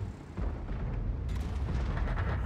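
Tank cannon fire in World of Tanks, with the AMX 12t and E 100 in play: a heavy booming shot followed by a rumbling, crackling blast that fills the mix, loud and without talk.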